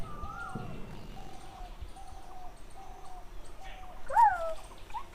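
A pure local desi pigeon giving soft, repeated low coos in a steady rhythm, close by, ending in a louder rising call, with faint background noise and no speech.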